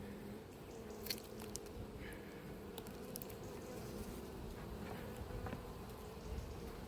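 A low, steady hum of many honeybees at a hive in an apiary drones in the background with a few faint clicks and knocks, fairly quiet and continuous.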